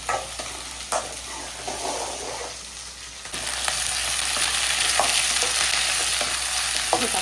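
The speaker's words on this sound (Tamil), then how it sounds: "தக்காளி நல்லா வதங்கட்டும்." Tomatoes sautéing in a pan for a fish curry give off a steady sizzle and scraping stir strokes, with the frying growing louder and denser partway through; no one speaks.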